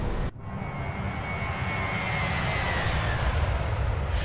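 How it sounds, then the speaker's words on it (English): Airbus A321 jet passing by in a flight simulator, a steady loud roar of engines that swells and holds throughout, with a faint rising whine across the sweep and no talking. "And now we can do a flyby."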